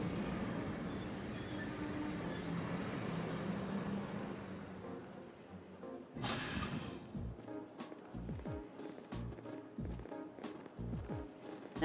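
A train in the Trails of Cold Steel game pulling into a station, a long rumbling run with squealing wheels, then a burst of hissing brakes and a series of rhythmic clunks as it slows.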